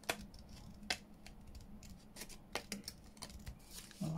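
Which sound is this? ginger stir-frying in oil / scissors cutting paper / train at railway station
scissors cutting paper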